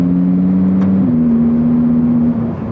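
A Lamborghini Huracán Sterrato engine drones loud and close, holding a steady revving tone that steps up in pitch partway through before easing slightly at the end.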